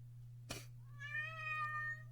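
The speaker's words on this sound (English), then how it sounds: "Cat is crying." A cat meows once, a clear, drawn-out cry following a short thump, heard close against a steady low hum in a quiet room.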